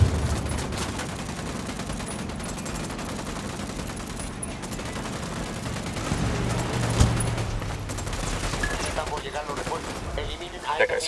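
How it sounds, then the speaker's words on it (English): Video game gunfire rattles in sustained bursts and volleys across the whole stretch, dense and continuous with a heavier thump near the middle, while a voice talks over the shooting. "Opening fire on these fuckers."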